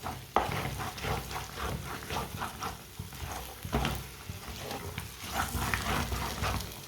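A spoon stirs makhandi halwa cooking in a pan over raised heat, with a repeated scraping and sizzling rhythm at close range, steady and fairly quiet throughout.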